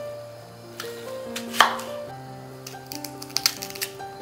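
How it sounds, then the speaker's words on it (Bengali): A knife chops an onion on a board, a few sharp close taps and cuts over steady background music. "পেঁয়াজটাকে আমি একটু ছোট করে কেটে নেব।"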